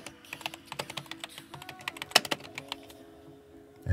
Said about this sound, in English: So I'm gonna put my password. Confirm the password.